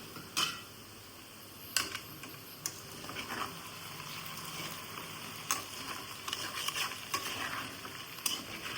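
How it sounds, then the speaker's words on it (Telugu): Potatoes cook in hot oil with onions and seasoning seeds, a quiet steady sizzle broken by sharp intermittent clicks and scrapes of a utensil stirring the pan. "ఇటు ఆలు అయితే మగ్గుతుంది ఆయిల్లో."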